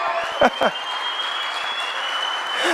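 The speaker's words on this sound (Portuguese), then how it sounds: "Aleluia, aplauda ele." A church congregation applauds in a steady wash of clapping, with a brief vocal exclamation near the start and a sustained tone running underneath.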